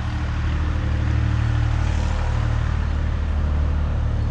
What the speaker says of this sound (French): la campagne, un tracteur qui passe, parce qu'on est au bord d'une route